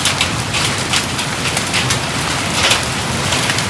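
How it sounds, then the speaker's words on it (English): Hail falls during a storm onto a 1954 Hille Ranger pop-up camper under restoration, a dense, continuous patter of many small impacts with scattered sharper hits, loud and close throughout. "Now we're getting hail."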